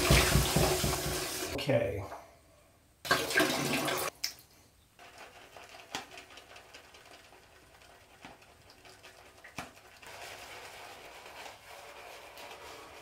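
A tap runs into a sink as a face is wetted before a shave, a bright hiss of water for the first few seconds that stops, returns briefly, then gives way to quiet handling noises and a brief spoken word.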